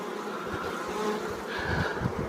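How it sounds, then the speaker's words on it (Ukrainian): Honey bees crawl over a hive frame during a spring colony inspection, giving a close, steady buzzing hum with soft fluttering bursts and no talk. "Як бачимо, бджоли ось бігають, пилок складають"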